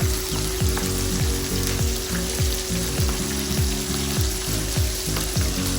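Garlic pepper beef frying in a pan while being stirred, a loud continuous sizzle with repeated scraping strokes of the spatula in a steady rhythm, close up with no talking.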